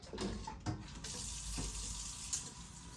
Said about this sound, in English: I prefer you add cold water to the pot.